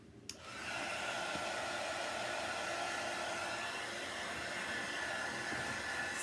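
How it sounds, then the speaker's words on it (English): A hair dryer switches on and blows steadily with a loud, constant whooshing roar, close by and uninterrupted. "Hit that with the dryer."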